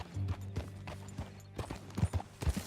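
A horse's hooves clip-clop in Red Dead Redemption 2, a quiet uneven walking rhythm of soft thuds that grows denser and slightly louder toward the end, heard alone with no talk.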